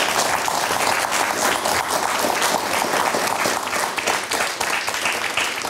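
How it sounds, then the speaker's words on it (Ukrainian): An audience bursts into sustained applause during a public talk, a dense, loud and continuous wash of clapping hands with no break, filling the whole stretch without speech. "ви зараз плескали"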